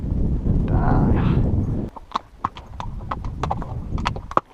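Icelandic horses walking in the Norwegian mountains, hooves clip-clopping in a loose irregular rhythm at close range after a stretch of wind-buffeted noise and a soft whinny-like sound.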